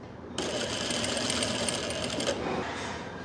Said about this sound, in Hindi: यहाँ से आपने आधा इंच की सिलाई लगा देनी है ऐसे